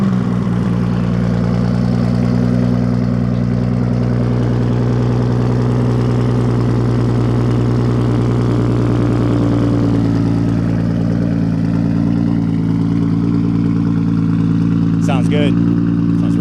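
A twin-turbo Nissan Skyline R33 GTR with HKS downpipe and Tomei titanium exhaust idles loudly and steadily with a deep, even exhaust rumble throughout, briefly blipping near the end.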